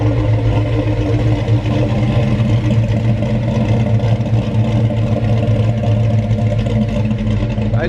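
A Mopar 318 V8 with a new camshaft idles steadily and loudly up close, its lumpy, rumbling exhaust pulsing continuously without a break.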